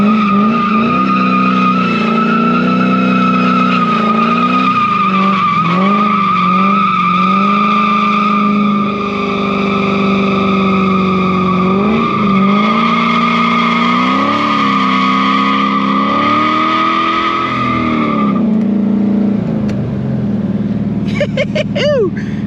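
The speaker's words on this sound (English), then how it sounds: "She does burnouts." A BMW E46 fitted with an LSA engine roars through a burnout, a loud sustained engine howl that rises and dips with the throttle over screeching tires, easing off near the end.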